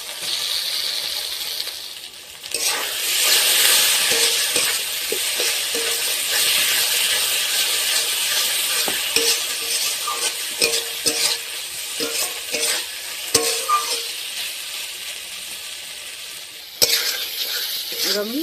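Turmeric and chilli powder masala stir-fried in a pan for a Ganges fish curry, a steady loud sizzle with repeated scraping strokes of a spoon against the pan and a few sharp clinks near the end.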